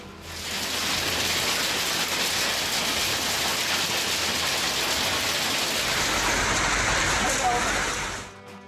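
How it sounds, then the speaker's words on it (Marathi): Steady, loud rain and hail drum down for several seconds in Maharashtra, a continuous dense patter that fades out at the end. "आणि दुसरीकडे पाऊस आणि गारांचा मारा।"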